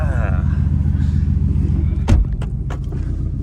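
A Mercedes-AMG GT R engine rumbles loud and close in a steady drone during donut practice, with a sharp burst near the middle before settling back to a lower idle-like growl.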